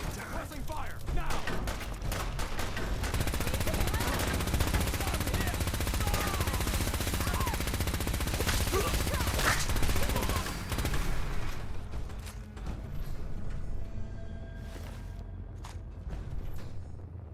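Dense, continuous gunfire from a Fallout 4 battle against the Railroad, loud and sustained with rapid overlapping shots for most of the stretch before thinning out into scattered reports, with voices faintly mixed in.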